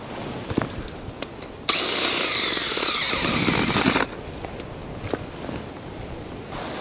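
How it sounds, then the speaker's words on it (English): A power drill boring a hole into wet ground near a drain pipe runs loud and steady for about two seconds, with soft footsteps and handling noises before and after. "So I thought I would drill just one more hole to be sure."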